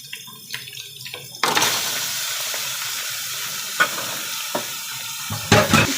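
Goat meat with garlic-ginger paste hits a hot pan with a sudden loud sizzle after a quieter start, then fries steadily with a few clanks of stirring near the end.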